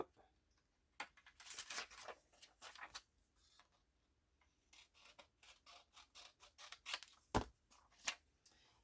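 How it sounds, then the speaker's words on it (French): Scissors snip a small strip of material for a Halloween decoration, a close series of short crisp cuts with rustling between them, one sharper snap near the end. "Je vais découper une toute petite bande parce que là, ça dépasse."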